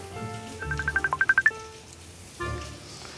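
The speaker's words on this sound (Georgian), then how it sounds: "აი რეკავს" A phone rings briefly, a short burst of rapid trilling electronic pulses that rises in level and stops, followed by a muffled thump against a low background hum.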